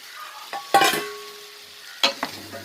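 Garlic kuzhambu with drumstick is stirred in a pan, a ladle scraping in a few short separate strokes over a faint sizzle. The sounds are quiet and close, with no talk.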